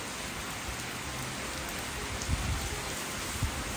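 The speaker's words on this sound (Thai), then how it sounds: "ฝนตกอีกแล้วครับ" Steady rain falling, a dense continuous hiss with occasional heavier drops pattering nearby.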